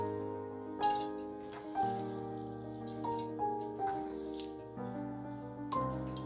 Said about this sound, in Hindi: सारे तरबूज को हम ग्राइंडिंग जार में दे देते हैं।